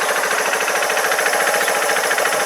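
A Keeway RKV125 motorcycle engine idles with a loud, rapid, even chattering rattle that continues steadily throughout, close to the recording.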